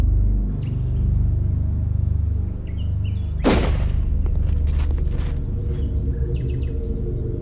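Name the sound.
gunshot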